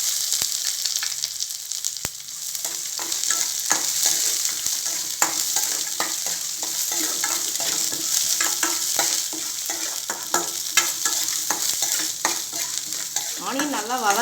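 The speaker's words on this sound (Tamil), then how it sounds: "ஆனியன் நல்லா வதங்கட்டும்." Chopped onion sautés in oil in a pan for millet pepper rice, a steady close sizzle with repeated scraping stirs of a spatula throughout.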